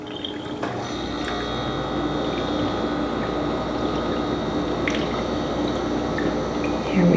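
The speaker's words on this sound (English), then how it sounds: "So I take some distilled water and fill the bottle all the way to the top" Distilled water filling a nasal rinse bottle up to the fill line, a steady close trickle with small drips and squishy bubbling, continuous and moderately loud throughout.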